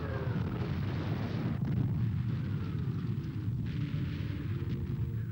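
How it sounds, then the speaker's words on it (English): A heavy artillery barrage in wartime, with paratroops under bombardment, booms as a continuous dense roar of rumbling detonations that merge into one loud, unbroken wall of sound. "Stundenlang dauert das Trommelfeuer an"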